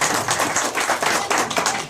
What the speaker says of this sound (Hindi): डीके सर का सम्मान में जोरदार ताली चाहता हूं, जोरदार ताली दिया जाए सर